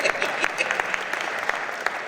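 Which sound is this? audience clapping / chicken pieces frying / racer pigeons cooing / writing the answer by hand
audience clapping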